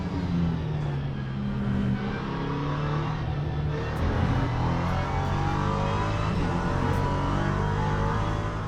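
A Toyota 3.5-liter V6 twin-turbo LMP3 car in the Le Mans Ultimate racing game drones loudly and continuously, its engine note rising and falling through gear changes.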